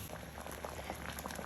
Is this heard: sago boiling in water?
yes